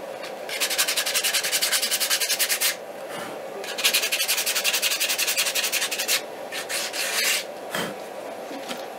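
Sandpaper rubbed briskly by hand on a wooden headphone cup gives close, rhythmic back-and-forth scratching strokes in several bursts with short pauses between them.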